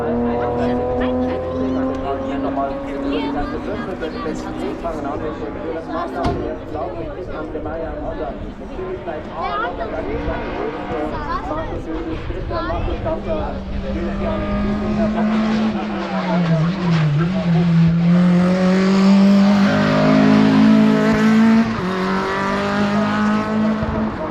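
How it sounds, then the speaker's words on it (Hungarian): A red race car at the Rechberg hillclimb revs hard through the gears, its engine note rising and falling with a tire squeal, fairly close and loud, while spectators talk nearby. "Valami piros kocsi."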